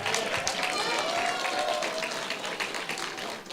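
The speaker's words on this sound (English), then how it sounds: "y'all wasted with that lukewarm applause" A crowd claps steadily throughout, a dense wash of hand claps that stays even and moderately loud before thinning slightly at the end.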